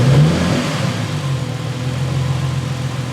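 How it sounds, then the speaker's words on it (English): A Ford car engine gives one quick rev that quickly drops back to a steady, moderately loud idle, with no talking over it. "You want to hit the rev once,"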